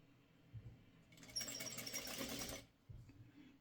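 Sewing machine stitching a fabric triangle onto a quilt block, a single quick burst of rapid, buzzing needle strokes lasting just over a second, framed by soft handling thumps before and after, close and quiet with no talking.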